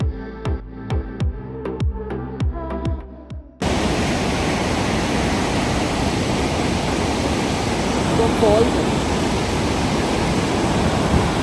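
Waterfall in Glacier National Park, Montana: a loud, steady broadband roar of falling water fills most of the clip, preceded by a few seconds of rhythmic tapping.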